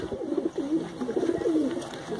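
Pigeons at a Delhi pigeon club coo softly in a steady, rolling series of low burbling calls, close and moderately quiet over faint background noise.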